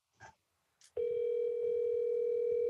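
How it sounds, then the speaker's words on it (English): A steady telephone ringback tone sounds while a call is placed, holding at an even level after a couple of brief faint noises. "It's ringing now."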